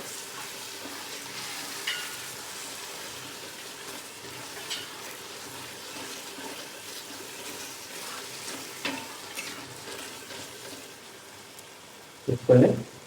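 Biryani masala with added curd being stirred in a pot: a soft, low sizzle with occasional scraping and stirring knocks, and a louder clatter at the end.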